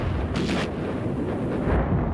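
Sound effect of triple 20mm cannons mounted on half-tracks firing in a World War II battle, a dense continuous roar of rapid booming fire with a sharper burst near the start, loud and unbroken throughout.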